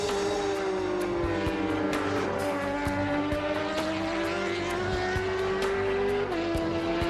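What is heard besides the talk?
Suzuki GSX-R 1000 racing motorcycle ridden on track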